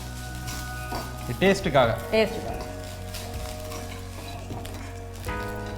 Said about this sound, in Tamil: இதில் கடைசியாக கொஞ்சமாக தேங்காய் எடுத்து வச்சு வறுத்து போடுறீங்க.